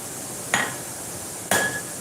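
A forging hammer strikes metal on an anvil in a blacksmith's shop, giving two sharp ringing clangs about a second apart over a steady background hiss.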